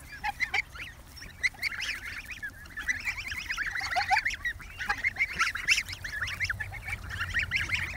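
A flock of geese on a lawn, honking and cackling close by in dense overlapping bursts, with ducks mixed in, the calls continuous and fairly loud with no talking.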